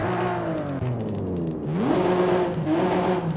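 A Toyota Supra engine in the game Forza Horizon 5 revs up and eases off repeatedly, a smooth rising whir from a stock exhaust, loud and close with no talking.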